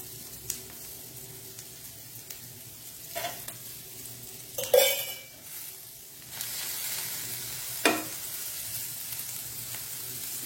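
Oil being added to and heating in a pan for a masala fish fry, with a soft, steady sizzle broken by a few louder splashes and stirring scrapes, fairly quiet overall.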